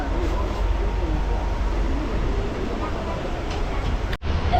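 A moving passenger train on the Haldibari–Bamunhat line makes a steady low rumble inside the carriage, a continuous rolling drone with a brief dropout near the end.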